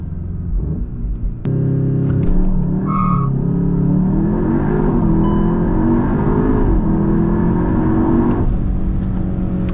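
A CUPRA Leon VZ (325 hp) engine roars loudly from idle into hard acceleration with electronic stability control off, rising in pitch for several seconds before easing off, with a faint tire chirp from wheel spin early on.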